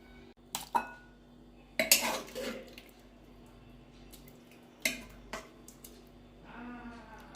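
Thin mutton curry with potatoes is poured from a pot into a serving dish, with close, sharp clinks and scrapes of a ladle against metal at irregular intervals and soft wet drips between them.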